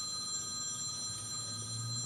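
A phone rings at an office workshop, a steady electronic telephone ring that holds constant throughout, moderately loud and alone with no talk over it.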